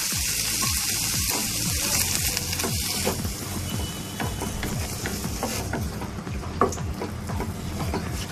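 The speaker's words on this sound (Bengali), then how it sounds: "এবার এর মধ্যে আমি অ্যাড করে দিচ্ছি, প্রথমে আমি সাত কাপ জল অ্যাড করবো।" Water poured into a pan of fried spices for keema ghughni, a steady hiss and sizzle with repeated scraping strokes of a spoon stirring the mixture, close and continuous throughout.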